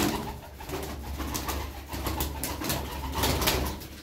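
A Çorum tumbler pigeon of the bare-footed kind coos in soft, repeated low murmurs, close and fairly steady, with a little background noise and no talk.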